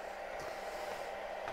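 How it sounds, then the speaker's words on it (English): A hairdryer running on its cold setting inside a garage, its steady airy whoosh holding level and fairly close, with a slight mechanical whine and no voices over it. "So I'm actually going to get the hairdryer set up."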